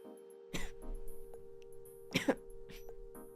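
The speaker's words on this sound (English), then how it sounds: "I think my cough is getting worse." A couple of sharp coughs and a throat clearing break up the quiet, close by, over a steady electrical hum.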